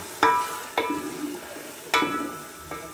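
Chicken liver frying in a pan, a soft steady sizzle broken by a few sharp clinks and scrapes of stirring utensils against the pan, close by with no talk.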